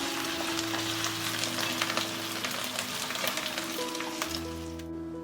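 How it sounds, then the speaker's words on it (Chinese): Chicken wings sizzle and fry steadily in a pan with ginger and garlic as the remaining water cooks off, a dense close crackle that carries on throughout with no voices. "再把水分给它煎干了。"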